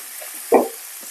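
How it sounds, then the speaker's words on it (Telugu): Spinach frying with onion and chili spice in a pan, a steady close sizzle with one brief louder scrape of stirring midway. "ఇలా వేయించుకోవాలి అన్నమాట"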